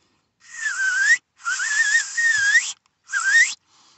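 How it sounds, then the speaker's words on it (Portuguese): A clear, melodic whistle made with the lips alone, no fingers, in three phrases with wavering, sliding pitch and short pauses between them, close and alone. "E esse assobio ele tem algumas variações."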